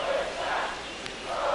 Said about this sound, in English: And that should quiet this home crowd.